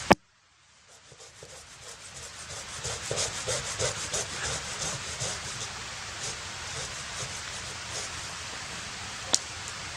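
Steady rasping rubs of sawing or sanding wood outdoors at a mountain lake campsite, a continuous close, moderately loud scraping that builds after a sharp initial knock, with a brief click near the end.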